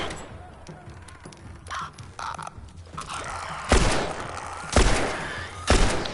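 Gunfire rings out in The Last of Us Remastered, a few sharp shots standing out among muffled game action, with a voice talking over parts of it.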